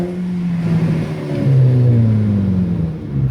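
A VW GTI MkV in Tiptronic mode accelerates at about half throttle, its engine note climbing in pitch through a gear change, loud and close from inside the car with no talk over it.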